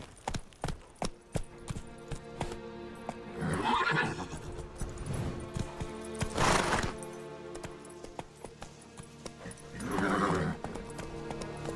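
Roach the horse in The Witcher 3 neighs and whinnies loudly several times over a steady clip-clop of hooves while being ridden, with no talk.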